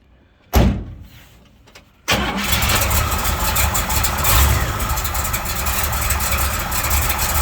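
A Chevrolet Camaro SS with a 396 big block V8, mild cam and automatic transmission: a door thuds shut, then the engine cranks, fires and settles into a loud, steady, rumbling idle close by.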